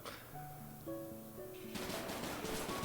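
Gunfire erupts in the mobile survival shooter Deadly Land, a rapid machine-gun burst that begins about halfway in after a few tonal game sounds. It is dense and continuous and fairly faint.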